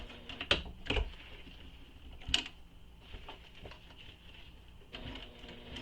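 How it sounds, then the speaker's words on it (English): A sewing machine stitches a second row on a handmade backpack in quiet bursts, with a few sharp clicks and knocks between short runs of steady mechanical whirring. "I will add that second row of stitching"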